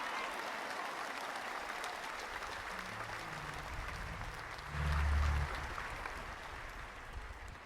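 Church congregation applauding, a soft, distant, steady patter of many hands that swells briefly toward the middle and then continues evenly, with a faint voice or tone underneath.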